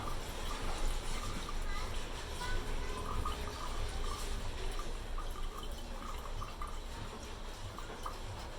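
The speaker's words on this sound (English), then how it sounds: "So I'll continue pouring bit by bit." Tamarind juice is poured bit by bit into a container for a homemade drink, making a soft, continuous trickling and splashing that is faint and steady from start to finish.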